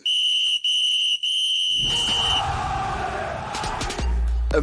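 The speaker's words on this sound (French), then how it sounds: "Petit coup de sifflet." A loud, sustained referee-style whistle blows in three long blasts with brief breaks, followed by a burst of crowd noise and commotion.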